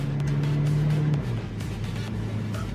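A 1998 BMW Z3 Roadster drives with a steady engine drone that drops in pitch as it shifts, then keeps a lower continuous hum, loud and close, with faint clicks and no talking.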